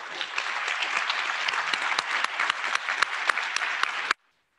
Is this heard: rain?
no